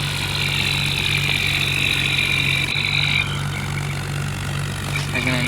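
A tractor engine in a farming video game drones steadily at a low, even idle, loud and unbroken, with a high whine that cuts out partway through.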